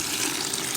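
Boiling water poured from a kettle over a waxed bicycle chain sitting in a bucket, a steady brief splashing gush heard up close and alone.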